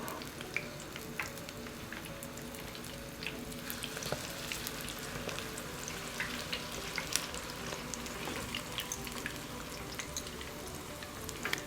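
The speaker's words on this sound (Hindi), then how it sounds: "अब इनको दोनों तरफ से अच्छी तरह फ्राई करें, यानी गोल्डन ब्राउन होने तक इनको करते रहें।" Spinach pakoras frying in hot oil, a steady dense sizzle with crackles and pops that runs unbroken and close for the whole stretch, no voices.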